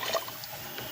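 Water splashes and gurgles as it is poured into a cooking pot, a short close trickle with no talking.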